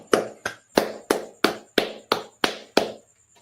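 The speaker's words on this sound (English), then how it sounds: "All right, clap it up." Hands clap nine times in an even, steady rhythm, each clap sharp and close with a short decay, followed by a brief pause and then the start of a tenth clap.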